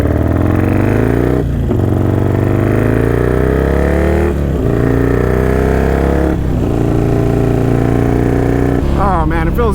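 Harley-Davidson Iron 883 V-twin engine revving hard while riding, loud and close, climbing through the revs with brief dips at gear changes, ending in a rattly burst.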